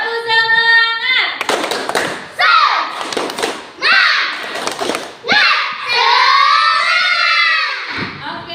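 Children perform a rhythmic spirit clap in a classroom lesson, with bursts of claps and thumps alternating with loud chanted and shouted voices.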